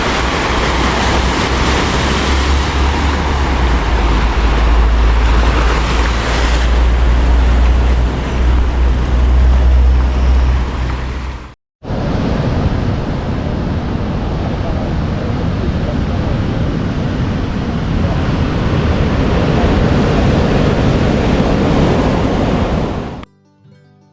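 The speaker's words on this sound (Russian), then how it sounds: "Тут река впадает в Атлантический океан." Atlantic Ocean waves surge where a river meets the sea in Porto, a loud, continuous roar of surf and wind that cuts off briefly once before resuming.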